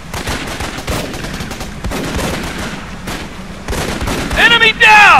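Gunfire in the Xbox 360 video game Raven Squad: loud bursts of automatic weapon fire and sharp shots in uneven clusters, with game sound effects and a loud closing burst.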